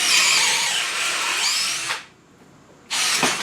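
Greenworks 24V brushless drill with a 5/16 inch Makita titanium twist bit boring into a non-pressure-treated 4x4 wood post: loud close motor whine and bit grinding, a brief pause, then a second loud burst of drilling.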